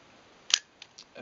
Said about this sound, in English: and then that flips up the mirror